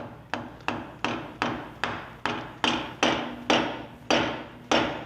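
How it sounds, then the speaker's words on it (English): A light maul tapping a water union spring housing down into place, about ten sharp metallic knocks at an even, unhurried pace, each ringing briefly, close and clear with no talk. "take a light maul, a little light, and just tap it down"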